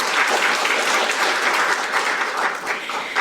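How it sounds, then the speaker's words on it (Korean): Steady, loud applause from a seated audience at a formal ceremony in the National Assembly, launching a national strategic maritime officer training program, sustained clapping filling the hall without pause. "박수 부탁드립니다"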